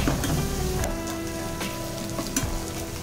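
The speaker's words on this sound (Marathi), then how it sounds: "त्यानंतर घालूयात बारीक चिरलेला कांदा ब्राऊन होईतोवर चांगला परतून घेऊयात" Finely chopped onion frying in oil with cumin, mustard and ajwain, a close, continuous crackling sizzle with occasional sharper pops and stirring scrapes, no voices.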